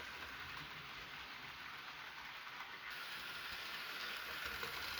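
A model railway A4 Mallard locomotive runs steadily along its track under a tree, giving a continuous close rushing rumble with a high whine and no speech.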